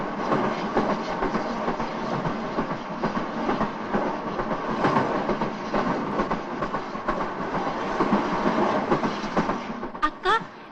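A train running on rails in a 1974 Indian film setting, a loud, continuous rumble with rhythmic clickety-clack from the wheels, steady throughout with a few brief squeaks near the end.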